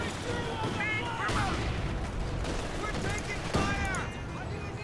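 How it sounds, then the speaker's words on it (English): Heavy .50 cal machine gun suppressing fire in the video game Company of Heroes 2, loud sustained battle noise with dense rattling bursts and explosions, and a voice talking over it. ".50 cal are doing massive work by suppressing these units."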